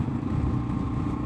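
A Kawasaki KLR 650 single-cylinder motorcycle with an aftermarket header runs at steady throttle, a loud, close, throaty low engine drone with a rapid pulsing beat and no voices.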